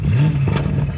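A Lamborghini Urus in sport mode gives one brief throttle blip, its engine note rising then holding over a close, loud idle rumble.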